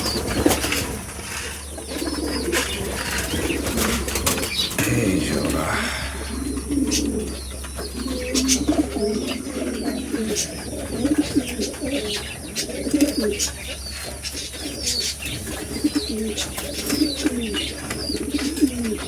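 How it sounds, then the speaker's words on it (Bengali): Pigeons in breeding season coo repeatedly in a loft, soft throaty calls overlapping with occasional chirps and brief bursts of wing flapping against a low steady hum. "আমার অনেক কবুতর এখন হিটে আছে"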